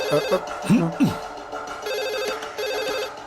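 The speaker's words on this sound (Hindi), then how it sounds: "फोन।" A telephone rings in repeated electronic bursts under a tense film soundtrack, with a brief voice heard at the start.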